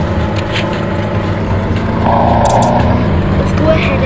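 A fire vehicle's motor hums steadily in the LEGO City video game, a constant droning engine tone that rises slightly partway through, with brief game chimes and a voice talking over it.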